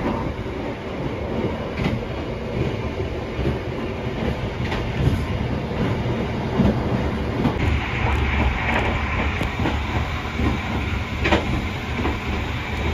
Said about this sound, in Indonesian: Kita persiapan melintas langsung stasiun Kutoarjo